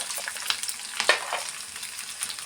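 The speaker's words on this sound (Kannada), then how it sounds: "ಈಗ ಒಂದು ಸತಿ ಎಲ್ಲ ಈ ಥರ ಫ್ರೈ ಮಾಡ್ಕೊಳ್ಳೋಣ ಆಯಿಲಲ್ಲಿ" Ginger, curry leaves and coconut pieces crackle in hot oil for khara pongal, a close, moderately quiet sizzle with sharp spattering pops and light stirring.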